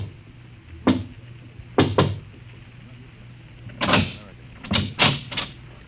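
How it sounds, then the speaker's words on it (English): Soft knocking on a door in a radio drama, a few quiet raps spread out with brief pauses, followed by louder door-like thumps and rattling, close and otherwise quiet apart from a faint background hum. "looks behind him, then knocks quietly on a door"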